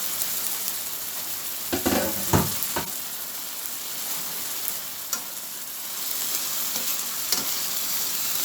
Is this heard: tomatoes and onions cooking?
yes